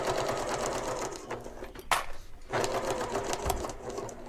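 A sewing machine stitching a visible seam on a shoulder bag or purse, a steady close mechanical whirring drone with brief pauses and restarts, no talking.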